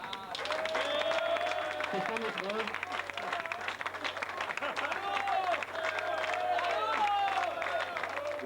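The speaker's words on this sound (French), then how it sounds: "On peut tout de suite l'applaudir." Audience applause for Patrick Diebold at the 1997 Antibes Cup, a steady, dense wash of clapping that continues under a presenter's voice and crowd murmur.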